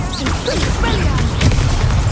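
Spell effects crackle and whoosh during a wizard duel in Hogwarts Legacy on PS5, with short bursts and impacts over busy game audio while voices speak.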